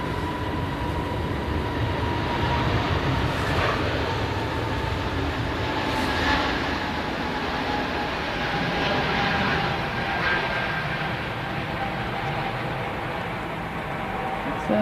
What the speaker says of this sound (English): EasyJet A320 Neo on the way to Belfast.